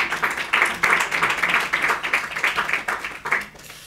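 Audience applause after a film discussion, a dense round of clapping with rhythmic pulses that swells, holds for a few seconds and then tapers off near the end.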